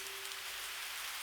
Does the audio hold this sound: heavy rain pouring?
yes